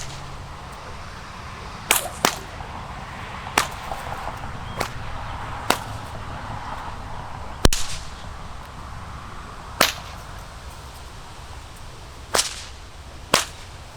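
A nylon whip with a lacing-needle fall cracks in roughly eight sharp, loud snaps at irregular intervals of one to two seconds, heard outdoors against a steady background hiss.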